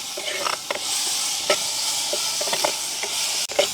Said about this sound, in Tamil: தக்காளி பழம் எல்லாம் எங்களுக்கு வதங்கிட்டுது.